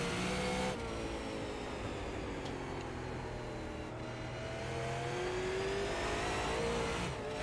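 Race car engine in the iRacing sim, a Super Late Model, revving hard and steadily with rising and falling pitch as the throttle shifts, loud and continuous with no talk.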